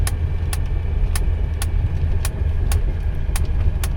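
A 1985 Mercedes 300CD drives at about 30 mph in third gear, with a steady low engine and road rumble and a sharp rattling tick repeating roughly every half second.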